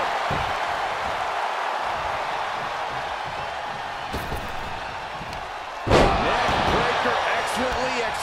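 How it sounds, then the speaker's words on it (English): A heavy elbow drop slams onto the mat in a pro wrestling video game, a sharp loud impact near the end rising over steady crowd noise and commentary. "Dropping the elbow."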